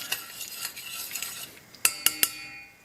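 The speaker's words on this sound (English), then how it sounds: "That's our smoked paprika going in." A metal utensil clinks and scrapes against a pan while smoked paprika is stirred into a Korean beef dish, with soft scraping strokes followed by three sharp, bright clanks close up.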